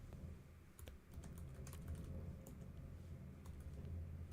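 Soft, fast keyboard typing runs steadily throughout, a quiet clatter of irregular keystrokes in a room during a live web-design build session.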